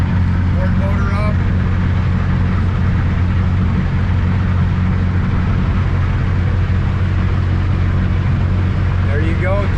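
A Seasport 24 pilot house boat cruises on a single Yamaha F150 outboard, giving a steady, continuous engine drone with water noise that holds level and close throughout.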